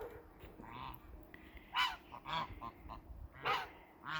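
White Chinese geese on a farm give several honks in loose, irregular bursts, moderately near and fairly quiet, with gaps of soft background between calls.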